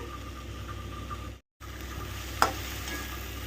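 Soybean tadka frying and being stirred in a pan, a steady close sizzle broken by a brief silent gap and one sharp clink of the utensil against the pan.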